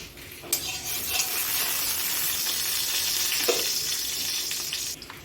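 Oil heats in a kadai before making Maggi egg noodles. It gives a steady, bright hiss and sizzle close by, with a faint scrape or two and no voices.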